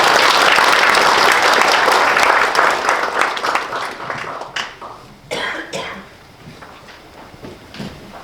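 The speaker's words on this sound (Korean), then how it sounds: "박수 한번 부탁드리겠습니다." An audience at a Korean semiconductor industry forum claps loudly for an incoming presenter, the applause thinning out halfway through into scattered claps, a cough and the shuffle of people settling.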